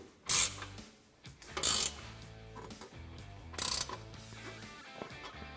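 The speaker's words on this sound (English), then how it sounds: "So now we're just gonna go through, fully tighten all our hardware" A ratchet tightening the nerf bar bolts on a Polaris RZR Pro XP, three separate runs of close, crisp clicking, each followed by a quieter pause.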